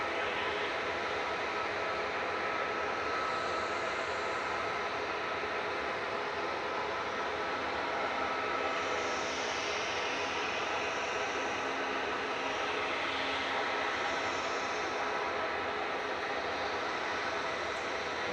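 A Ryanair airliner taxis at Manchester Airport, its jet engines producing a steady, distant broadband roar that holds constant throughout with no other clear sounds.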